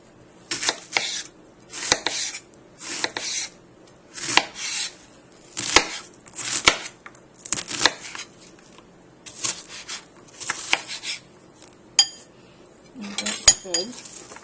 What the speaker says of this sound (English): I'm going to put the chopped onion into a bowl